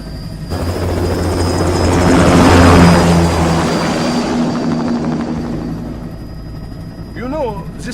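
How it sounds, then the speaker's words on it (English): An aircraft takes off in the video game Metal Gear Rising: Revengeance, a loud rotor-driven roar that swells over several seconds and then fades, with a steady high whine and a voice speaking near the end. "Commencing takeoff in semi-auto mode."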